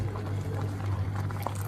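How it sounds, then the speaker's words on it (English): About a cup of water is poured into a thickened cooking mixture, giving a short, soft, continuous liquid splash and trickle at close range. "So here we want to add some water."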